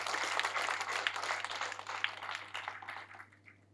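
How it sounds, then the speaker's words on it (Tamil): An audience claps for the poets at a haiku book launch, with dense applause that slowly thins and fades away toward the end. "இந்த தலை பிரசவம் முடித்த அத்தனை கவிஞர்களுக்கும் ஒரு அரங்கம் நிறைந்த கைத்தட்டலை நம்ம தரணும்."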